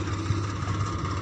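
A solar tractor runs at a steady idle nearby, giving a continuous low mechanical hum and rumble with no pauses or changes in pitch.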